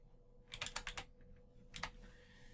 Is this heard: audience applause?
no